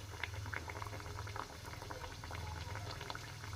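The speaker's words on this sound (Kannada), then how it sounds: "ಈ ಥರ ಬಿಸಿ ಬಿಸಿ ಎಣ್ಣೆ ತೊಗೊಂಡು ಸುಡ್ ಸುಡೋದು ಇದ್ರ ಮೇಲೆ ಈ ಥರ ಹಾಕಂತೀನಿ" Chiroti, a layered Karnataka pastry, frying in hot oil, a steady dense bubbling sizzle with crackling pops that carries on close and fairly loud throughout, with no talk over it.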